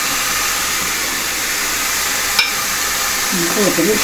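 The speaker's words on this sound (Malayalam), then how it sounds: "അപ്പൊ അതൊക്കെ ഇട്ടിട്ട് അമ്മച്ചി പതുക്കെ ഒന്ന് വഴറ്റാണ്" Crushed shallots, garlic and ginger sautéing in a pan for an Ankamali-style pork dish, a steady hissing sizzle with a brief clink of a utensil and some stirring scrapes near the end.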